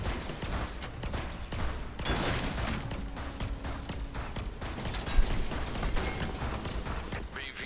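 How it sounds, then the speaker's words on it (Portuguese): Rapid shots fired at targets in LEGO Marvel Super Heroes, a busy stretch of repeated gunfire with clattering mechanical effects and game noise, a few louder bursts standing out. "eu tô atirando nesses alvos aí"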